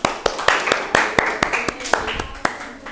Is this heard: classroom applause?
yes